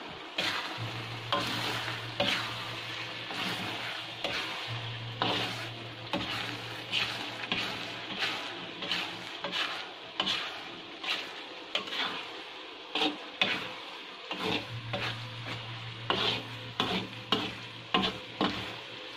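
Spices for Balinese bumbu rajang sizzle in cooking oil while a utensil stirs them, giving a steady frying hiss broken by repeated scraping strokes against the pan, with no talk.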